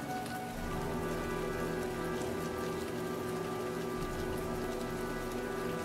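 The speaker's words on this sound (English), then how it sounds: "These people are so used to the rain, nobody carries umbrellas" Steady rain in the video game Heavy Rain, a dense continuous hiss of drops on hard surfaces with a low droning hum beneath, constant and close for the whole stretch.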